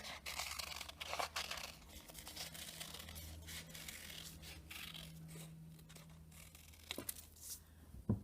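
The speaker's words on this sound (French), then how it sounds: "Je vais découper." Scissors snipping and rustling paper as a round shape is cut out for a drawing, soft irregular cuts and crinkles, close and quiet with no talking.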